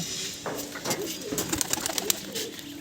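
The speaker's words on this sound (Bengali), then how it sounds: "এই দেখুন মুখো পায়রা দেখুন" Black-eyed Mukho pigeons coo softly in a loft, repeated low throaty calls close by amid light rustling.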